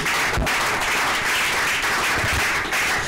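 A church congregation applauding during a French-language Bible teaching, with dense, continuous clapping that is loud and close throughout and has no voice over it.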